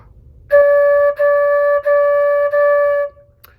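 Four steady, separately tongued flute notes on one pitch, each clear and sustained with short breaks between, played alone in a quiet room.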